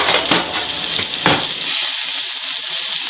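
Onions cooking down in a skillet, a loud close sizzle with a few stirring scrapes early on before the frying settles into a steady hiss.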